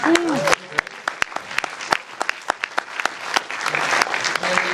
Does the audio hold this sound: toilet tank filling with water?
no